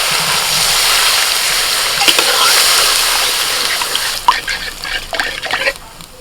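Water splashes and gushes into a pan of vegetables and soy sauce, a loud rushing pour that settles into scattered sputtering and clinks toward the end.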